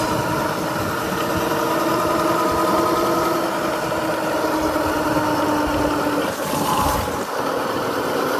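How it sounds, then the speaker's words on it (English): A street motorcycle engine drones past nearby, a fairly loud, continuous hum whose pitch shifts slowly as the bike moves. "What is that? I think it's just a street bike."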